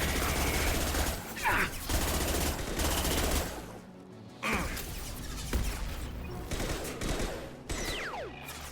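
In the video game Mass Effect 2, an SMG fires on a Colossus in loud, rapid automatic bursts. The bursts are separated by a few brief pauses, with faint mechanical creaks and clanks in between.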